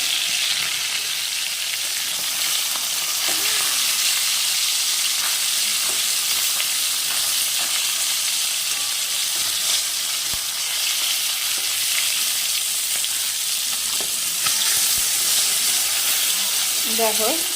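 Poa fish sizzles in hot oil in a pan after being flipped, a dense, steady frying hiss that holds close and loud from start to finish with small crackles and a faint voice now and then.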